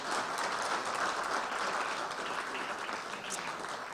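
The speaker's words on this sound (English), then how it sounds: "Another round of applause for Gary Pollard" A crowd at an evening health and wellness fair gives sustained, even applause throughout, a dense wash of many hands clapping at moderate distance.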